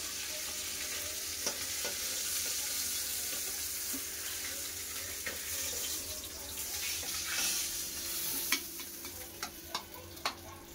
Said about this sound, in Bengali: মাছ ভাজা হয়ে গেছে, মাছ তুলে নেবো।